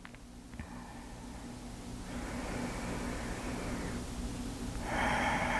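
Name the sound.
deep breathing in and out through the nose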